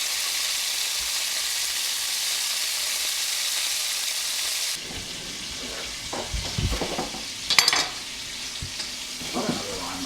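Cauliflower sears in a hot pan with a loud, steady sizzle, then the sound changes as the pieces are flipped, with clattering knocks and scraping over a softer, continuing sizzle.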